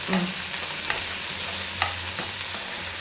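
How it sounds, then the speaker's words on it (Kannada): Garlic fries in a pan for mushroom pulao, a close steady sizzle broken by rhythmic scraping and stirring strokes of a spatula. "ಇದನ್ನ ಈಗ ಚೆನ್ನಾಗಿ ಫ್ರೈ ಮಾಡಬೇಕು ಎಲ್ಲ ಫ್ರೈ ಮಾಡಿಕೊಂಡು ಕೆಂಪು ಬರೋ ತನಕ"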